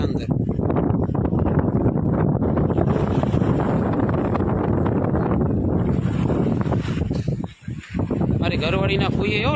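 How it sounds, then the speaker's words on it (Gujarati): Strong wind buffets the microphone at Netanya beach in Israel, a loud continuous roar across the whole clip with only a brief lull near the end, and voices talk beneath it. "ફૂલ પવન છે"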